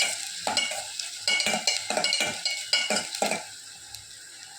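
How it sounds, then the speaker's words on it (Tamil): Onions and carrots sizzle in a hot pan while a utensil stirs and scrapes in a steady rhythm, close and clear. "நல்லா வதக்கி விடணும்."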